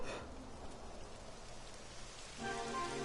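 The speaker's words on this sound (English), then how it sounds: "Ah, crap, it's raining again." Steady rain pours down in the video game Dragon Quest 11, a dense continuous hiss with faint tonal game music rising near the end.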